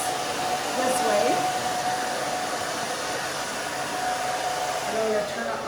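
Steady, close whoosh of a hair dryer blow-drying a pixie haircut with a brush, a continuous airy roar with faint shifting tones as the brush moves through the hair.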